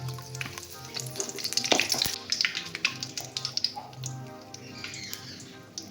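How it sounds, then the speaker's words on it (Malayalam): Mustard seeds and curry leaves with pepper sizzling and crackling in hot coconut oil for a greens thoran, a steady close frying hiss with sharp popping bursts and some stirring. "വെളിച്ചെണ്ണ ചൂടായി വന്നപ്പോൾ കടുക് ഇട്ടു"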